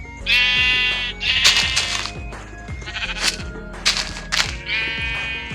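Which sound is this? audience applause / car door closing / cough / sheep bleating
sheep bleating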